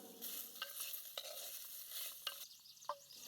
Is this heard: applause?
no